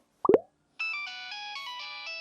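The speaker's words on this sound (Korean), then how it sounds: "이게 2002년 노키아 소리거든요" A 2002-era Nokia phone ringtone plays, a bright synthetic melody of stepped electronic tones that starts after a short plopping knock and continues steadily, fairly quiet and alone.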